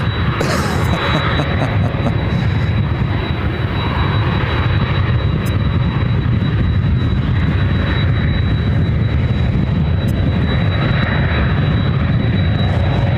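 Jet airliner engines roar loudly and continuously as aircraft turn on runway 26 right at Ontario airport, California, a dense close broadband blast holding steady throughout with a thin high whine above.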